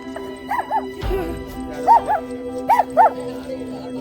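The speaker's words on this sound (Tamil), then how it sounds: "இந்த நாய் தான் எங்களை எல்லாத்தையும் வெளியே முடுக்கி விட்டுச்சு" A dog at a Tibetan temple barks as it chases visitors out: a few sharp, mid-pitched barks in short bursts over several seconds, fairly close, with a low thump partway through.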